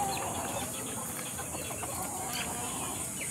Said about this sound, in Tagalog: Nagbahog nami guys sa among manok